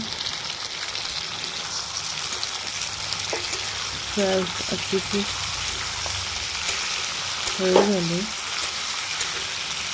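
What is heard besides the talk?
Kashmiri tomatoes frying in a pan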